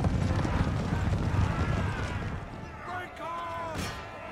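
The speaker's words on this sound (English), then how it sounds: "Regiment of horse is going to counter charge." Empire: Total War battle noise with a dense rumble of charging cavalry hooves and clatter, fading into softer ambient tones and faint voices over a few seconds.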